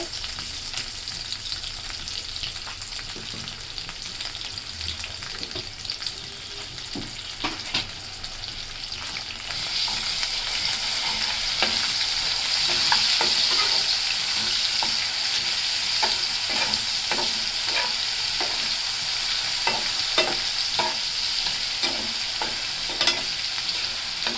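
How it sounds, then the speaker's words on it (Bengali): Dried fish, garlic and onion frying in a pot give a constant close sizzle that grows louder partway through, with repeated scraping stirs and utensil clinks. "শুটকি রসুনগুলো ভাজা হয়ে গেছে, এখন আমি একটু পানি দিয়ে দেব।"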